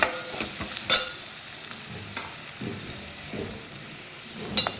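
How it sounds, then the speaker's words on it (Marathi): Spice masala being sautéed in a pan for an okra and prawn curry, with intermittent spoon scrapes and stirring clicks over a soft, low sizzle, close and fairly quiet, with no talking. "मसाला पण चांगला परतून घ्यायचा"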